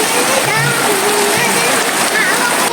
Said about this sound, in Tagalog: Kusog maguwan.